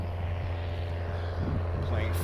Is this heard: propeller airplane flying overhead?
yes